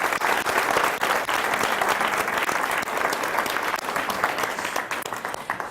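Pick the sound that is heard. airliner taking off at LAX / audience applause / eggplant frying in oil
audience applause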